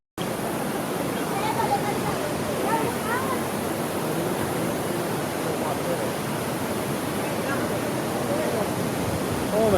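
Steady, dense roar of a waterfall and rushing water at Secret Falls sulfur hot springs near Bacolod, Philippines, continuous and loud throughout with no pauses.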